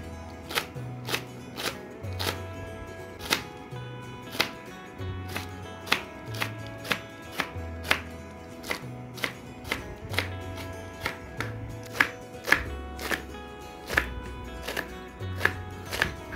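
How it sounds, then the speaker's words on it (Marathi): Steady knife chopping of shevla, a wild monsoon vegetable, on a board: crisp, close, regular strokes in quick bursts, the knife rocking in a near-constant rhythm with no talking. "आता त्याला बारीक असे कटिंग करून घेऊया. असे बारीक बारीक पीस कटिंग करून घ्यायचे."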